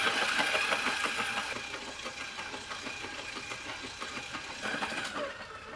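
Stand mixer kneading sticky brioche dough at increased speed, a loud, steady motor whir with rhythmic slapping and knocking from the dough that eases slightly partway through.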